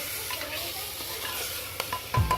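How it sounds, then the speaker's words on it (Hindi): Lemon chicken stirred in a pan, soft sizzling under steady scraping, a few sharper clinks from a utensil against the pan near the end, close and moderately quiet. "थोड़ा सा हिलाएंगे ताकि सारा अच्छे से मिक्स हो जाए।"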